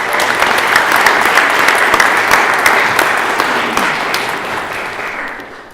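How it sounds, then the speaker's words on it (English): Loud, enthusiastic applause from an audience at a veterans' organization event, dense clapping with some crowd noise that gradually tapers off over several seconds. "please give a round of applause"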